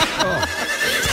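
A horse whinnies loudly in a comic Spanish radio sketch set in Nero's palace stables after the animal is struck, with a wavering, descending neigh that fills the short moment, faint speech-like sounds behind.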